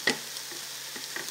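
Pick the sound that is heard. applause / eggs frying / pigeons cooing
eggs frying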